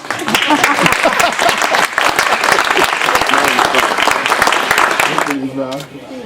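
Loud applause fills a room at a bill-signing ceremony, dense clapping running steadily for about five seconds before thinning out as a voice starts speaking near the end.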